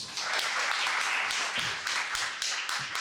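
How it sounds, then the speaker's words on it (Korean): An audience at a panel talk during an AI technology and business event applauds with a dense, continuous patter of clapping, steady and fairly loud, with no voices over it. "패널 토크 해주신 분들, 참석해 주신 분들께 박수 한번 부탁드립니다"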